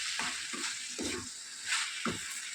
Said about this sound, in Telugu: కట్ చేసుకున్నటువంటి ఈ బీరకాయ ముక్కల్ని వేసుకోవాలి. ఆయిల్ బాగా పట్టేటట్లు కలుపుకోవాలి.